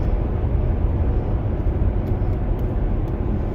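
A Chevrolet Corvette C7 Z06 engine heard from inside the car during downshifts, a dense steady low rumble with road roar that stays loud and even throughout.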